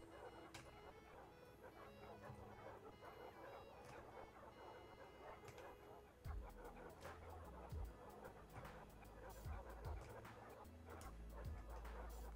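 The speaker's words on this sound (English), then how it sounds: "Look how many dogs there are." A big pack of Minecraft dogs barks and yips continuously, overlapping barks piling up into a busy, fairly quiet chorus with thumping game noises underneath.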